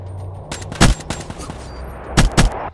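Gunfire in a shooter video game rips through a fence in several sharp, loud bursts, with quieter shots and game noise between them.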